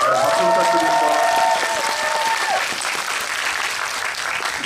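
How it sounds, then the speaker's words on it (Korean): Audience applause at a film screening Q&A in a cinema, loud and dense from the start, with a voice talking over the first seconds before the clapping carries on alone. "박수 부탁드립니다."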